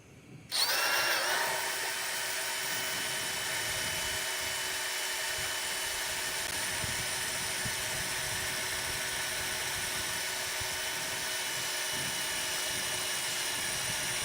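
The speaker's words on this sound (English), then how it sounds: "the DeWalt drill doing its thing right there" A DeWalt cordless power drill whirs up abruptly in a glassblowing studio and then runs at a steady high-pitched whine without stopping, close and loud, with no talking.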